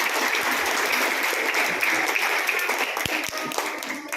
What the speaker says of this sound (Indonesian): Mari kita berikan tepuk tangan yang meriah buat anak-anak kita